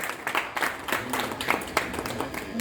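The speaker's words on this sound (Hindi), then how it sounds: "जोरदार तालियां।" Audience applause at a numismatic fair award ceremony: steady mid-level clapping from a hall crowd for a lifetime achievement award, continuous and fairly close, with no voices over it.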